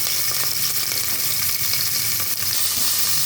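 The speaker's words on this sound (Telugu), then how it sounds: "కుక్కర్ పెట్టుకొని ఇందులో ఆయిల్ వేసుకోవాలి ఆనియన్స్ పచ్చిమిర్చి వేసుకోవాలి" Onions and green chillies fry in oil in a pressure cooker for bisibelebath, a loud, close, continuous sizzle with steady crackle and faint stirring throughout.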